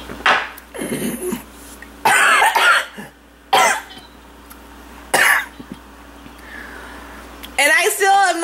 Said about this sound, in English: And I still am like coughing.